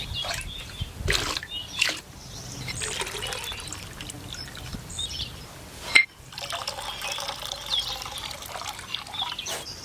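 Water poured in measured one-liter amounts into a mold cavity up to a fill mark, splashing and trickling in several bursts separated by brief pauses, close and fairly loud.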